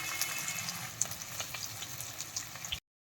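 Steady crackling sizzle of pork frying in hot oil, close up, with small pops scattered throughout and no voices.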